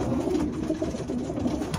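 Racing pigeons coo softly in a loft, a few close, low rolling calls repeating across a short stretch with no talking.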